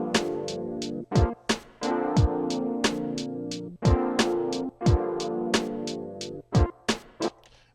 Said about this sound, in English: So now that we have a drum line laid down, let's go ahead and play that.